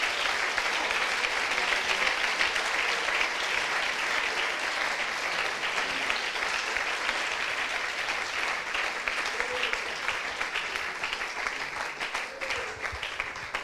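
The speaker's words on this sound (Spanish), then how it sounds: "Dele ese aplauso al Rey de la Gloria" Church congregation applause during a Spanish-language sermon, a long, continuous roll of clapping with a crowd murmur beneath, steady and full across the whole stretch before tapering slightly.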